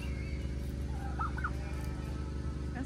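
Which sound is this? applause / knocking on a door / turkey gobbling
turkey gobbling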